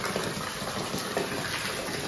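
Water drains steadily from a cut-off reinforced polypropylene supply pipe at a replaced valve, a constant soft rushing, gushing flow heard up close without pause or talking.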